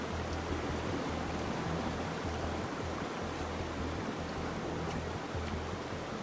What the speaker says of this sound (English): I've got a thing for waterfalls.